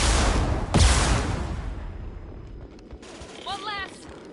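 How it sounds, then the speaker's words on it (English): Gunfire in a firefight in Mass Effect 2, a loud close burst of shots at the start that fades into quieter scattered shooting and game effects, with a voice calling out briefly near the end. "We're compromised! We're taking fire down here!"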